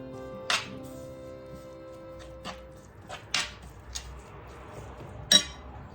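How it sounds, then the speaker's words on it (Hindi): A spoon knocks and clinks against a dish while chicken biryani marinade is mixed with chopped fresh mint, a handful of sharp isolated taps spread over a quiet background. "ये सब डाल को मिक्स कर लेते हैं।"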